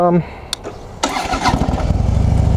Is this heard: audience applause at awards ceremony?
no